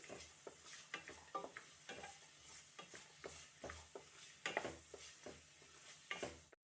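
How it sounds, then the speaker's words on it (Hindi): Cashews and almonds lightly frying in a pan for a jaggery lapsi, a faint steady sizzle broken by frequent soft stirring scrapes, with no one talking. "अब हम काजू और बादाम को हल्का सा फ्राई कर लेंगे"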